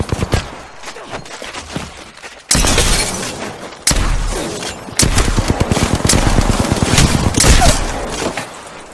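Gunfire in the battle royale game Apex Legends, loud rapid automatic bursts and sharp single shots coming in several sustained volleys, close and intense, with heavy booming impacts.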